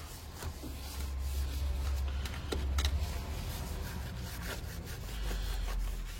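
Scrubbing with cleaning solution to lift muck and paint-flecked gunk off an object: repeated close, rough rubbing strokes in uneven bursts, quiet and without talk.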